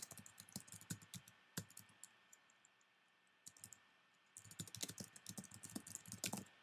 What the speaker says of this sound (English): type in the player's name